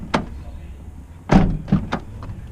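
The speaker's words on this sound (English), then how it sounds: "you're going to close and open driver's door twice." A Toyota driver's door closed and opened twice, a series of close thuds and latch clicks spread over a couple of seconds, the second pair louder than the first.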